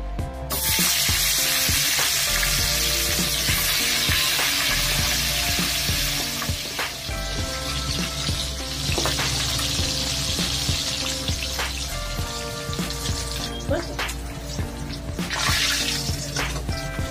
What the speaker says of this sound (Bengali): মাথাগুলো ভালো করে ভেজে নিতে হবে।